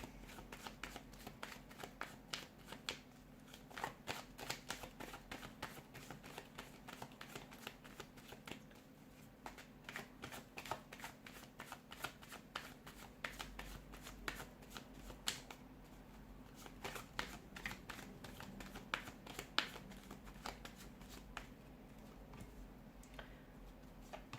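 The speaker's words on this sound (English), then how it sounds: "give the cards a shuffle and begin" Continuous crisp riffling and flicking of tarot cards being shuffled by hand, quiet and close, with repeated rapid bursts and no talking.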